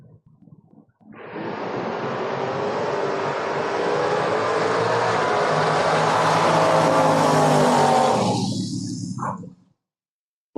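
Drag race cars, a Mustang among them, launch and roar down the strip at a door-wars drag meet, one sustained loud engine blast lasting several seconds before cutting off abruptly.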